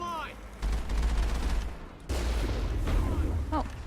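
Explosions and gunfire in the Mass Effect video game, heavy booming bursts with rumbling low end and a sharp blast at the midpoint, while short voiced shouts sound between them.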